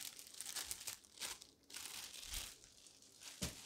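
A single plastic bag from a lightstick unboxing crinkles in handled bursts, close and fairly quiet, with no talking.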